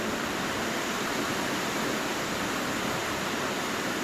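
Rainwater overflowing at a window and sliding door, pouring over like a small waterfall, makes a steady, loud, broadband rush that holds evenly from start to finish with no pauses.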